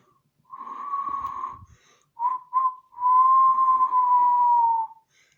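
A person who cannot really whistle attempts a tune, producing a breathy, airy, wavering whistle in a few separate bursts with short gaps, close and moderately loud.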